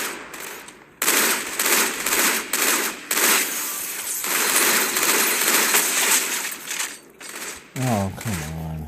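Video game gunfire streamed over Project xCloud comes in long, loud rapid bursts with brief gaps, and a tonal game sound near the end.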